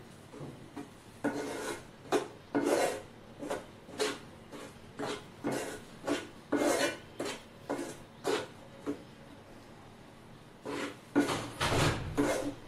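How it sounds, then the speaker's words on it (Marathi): Wheat flour being stirred and roasted in a pan over a low flame for a jaggery shira. A spatula makes repeated rhythmic scraping strokes, close and fairly loud, with no talking. "आता ते आपण छान वास येईपर्यंत भाजून घेऊया।"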